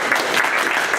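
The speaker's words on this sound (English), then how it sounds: "let's give a round of applause for you." A brief, steady patter of audience applause at a creative industry professionals' talk, one second of many hands clapping together.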